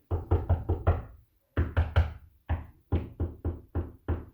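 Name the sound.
knocking on solid wooden trim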